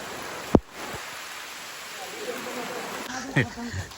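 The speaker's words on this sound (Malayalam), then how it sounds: "മഴ പെയ്യുന്നുണ്ട് മഴ പെയ്യുന്നുണ്ട്" Steady rain hisses throughout as a dense wash of noise, with a couple of sharp drips or knocks and faint voices in the background.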